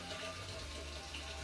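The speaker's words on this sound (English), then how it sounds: "I'm going to flip the tap on" A water tap pours into a winemaking fermenter, a steady close gush of running water that fills the short moment without a break.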